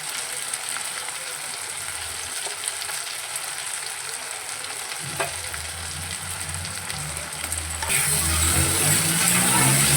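Spices and vegetables fry in a pan with a steady crackling sizzle, growing louder and fuller near the end as more ingredients go in.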